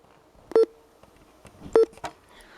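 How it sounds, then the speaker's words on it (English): Two short electronic beeps from the buttons of a RadioShack 996 radio scanner, about a second apart, each a brief tonal chirp with faint handling clicks between them in an otherwise quiet room. "Basically, the button beeps for the 996."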